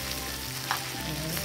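A spoon stirs dinakdakan, a pig ear dish with mayonnaise, over a faint steady sizzle, with one brief soft scrape partway through.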